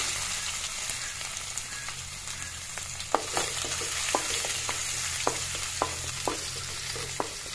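Garlic frying in hot oil with cardamom, cinnamon and bay leaves for a pumpkin curry, a steady close sizzle with scattered pops and crackles throughout.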